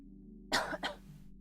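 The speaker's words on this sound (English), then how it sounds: "So excuse me if I'm coughing." Two quick, close coughs in a row, sharp and near, in an otherwise quiet room with a faint background hum.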